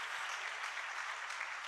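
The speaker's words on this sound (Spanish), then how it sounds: "Denle un aplauso al Rey bendito" A church congregation applauds, a dense, even wash of many hands clapping together that holds steady throughout the short burst, heard from somewhat of a distance in a reverberant hall.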